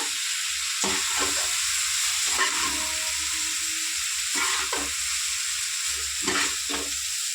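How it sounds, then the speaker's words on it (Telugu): Chicken noodles with egg and sauces stir-fried in a pan, a steady close sizzle broken by repeated scraping stirs, with no talking. "ఇప్పుడు చికెన్ అంటే ఎగ్ మొత్తం అన్నీ ఒకసారి వేసేస్తాం వేసేసి కలుపుదాం నీట్గా అంతా"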